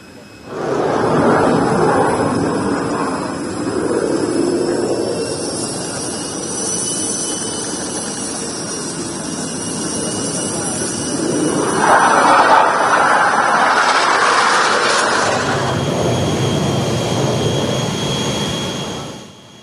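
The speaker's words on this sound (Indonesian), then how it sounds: "Pesawat Kerajaan Jordania Hashimiyah mendarat di Lanut Halim Perdana Kusuma pada Jumat sore kemarin." A Jordanian royal aircraft landing at Halim Perdana Kusuma airbase produces a loud, sustained jet engine roar that swells and shifts in tone, rising near the end before dropping off.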